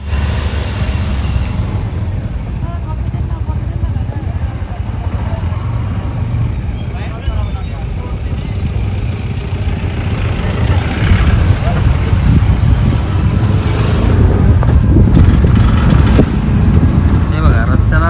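Road traffic flowing past an auto rickshaw near roadwork where a line is being laid, with a loud continuous engine rumble and vehicles passing close by while someone talks over it.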